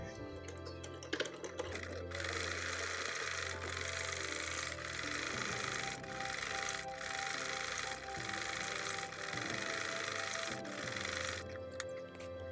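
A sewing machine runs in quick, even bursts while stitching the slit of a ladies' suit, a fast faint mechanical rattle with short pauses between runs.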